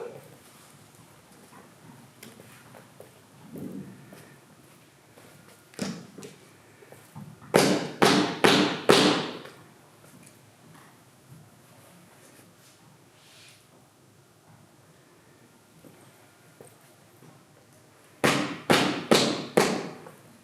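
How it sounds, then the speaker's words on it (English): Knocking on a door in a staged reading of a gothic tale: two quick bursts of four sharp, loud raps each, well apart, with faint room noise and soft movement between them. "I approached and knocked on the door."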